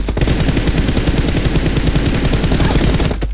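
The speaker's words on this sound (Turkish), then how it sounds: "o kadar mermiyi öyle güzel güzel akıttım" Rapid automatic gunfire from the video game PUBG Mobile, a loud, dense stream of shots rattling continuously for several seconds with no talk over it.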